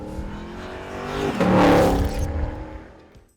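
A Ford Mustang GTD drives at a distance and pulls up alongside another Mustang, its engine note swelling to a moderate peak as it draws near, then fading away.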